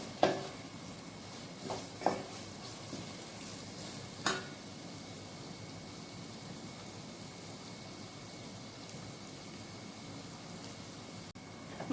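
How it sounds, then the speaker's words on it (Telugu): Mushrooms fry in a pan with a steady, soft sizzle throughout, broken near the start by a few scraping stirs of a utensil. "ఒక 5 నిమిషాలు టైం పడుతుంది ఇది ఫ్రై కావడానికి"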